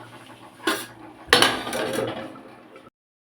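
A metal lid clanks onto a cooking pot of simmering potol and peanut gravy, two sharp clinks followed by a softer rattling settle, close by and without speech.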